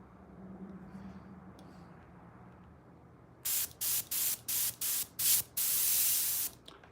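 Quiet background hum, then a series of short hissing air bursts from an airbrush gun, about six in quick succession, ending with a longer sustained spray.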